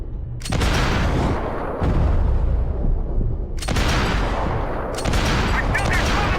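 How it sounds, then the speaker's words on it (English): Gunfire in the video game Max Payne 3 comes as sustained, loud automatic bursts that roar almost continuously, with a couple of brief lulls between volleys and muffled impacts underneath. "Aren't you shooting anyone?"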